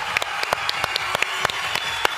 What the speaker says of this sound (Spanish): quiero que le demos un gran aplauso a todas las personas que trabajan en el festival